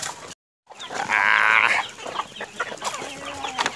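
Native backyard chickens cluck and squawk near the microphone on a rural Philippine farm, with a loud burst of clucking near the start followed by scattered softer calls.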